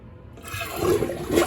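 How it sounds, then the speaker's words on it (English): A toilet flushes close by, a short rush of water rising quickly and swirling loudly, heard alone. "I'm gonna flush the toilet one last time."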